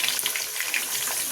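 Four eggs fry in a pan, a brief, close, bright sizzle with small crackling spits and steady hissing.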